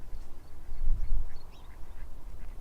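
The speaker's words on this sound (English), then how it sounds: "Oh, look at them birds." Ducks quack at Whitby Abbey, several short calls scattered over low, gusty outdoor rumble, fairly close and moderately loud.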